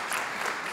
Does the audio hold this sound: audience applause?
yes